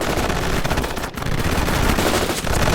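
Sustained machine-gun and rifle fire from the strategy game World in Conflict, a dense loud rattle of rapid shots with a brief dip midway before the barrage resumes.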